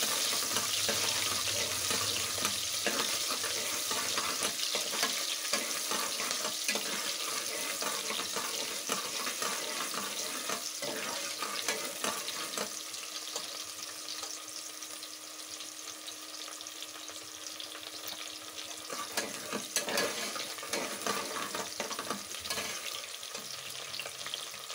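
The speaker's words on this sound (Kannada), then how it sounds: "ಈರುಳ್ಳಿ ಫ್ರೈ ಆಯ್ತಾ ಇದೆ." Chopped onion frying in hot oil for a village-style chicken gravy, a dense close sizzle with intermittent stirring clatter, easing a little midway before picking back up, no talk.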